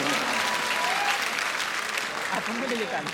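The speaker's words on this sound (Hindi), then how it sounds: "एक बार मेरे लिए भी तालियां आप बजाइएगा" Audience applauding a poet at the Shravan Dham Mahotsav festival, a loud, sustained burst of clapping from a large crowd, with voices rising over it.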